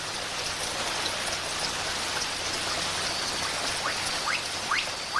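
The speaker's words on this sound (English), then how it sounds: "The downpours of rain are absorbed by the vegetation and soil like a giant sponge" Steady, dense rainfall hisses evenly throughout, a heavy downpour in Madagascar soaking vegetation and soil, with a few faint bird chirps near the end.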